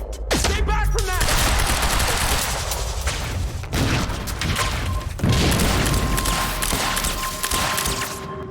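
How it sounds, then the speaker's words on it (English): Frag grenade thrown and exploding in Quantum Break, heard within loud, dense video-game combat: heavy booms and sustained rapid gunfire crackling throughout, with brief metallic clanks near the start. "Throwing a frag! Stay back from that!"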